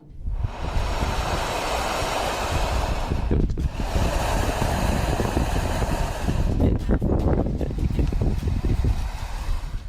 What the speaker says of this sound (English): this is actually just wind rushing through some kind of construction tunnel for a pipe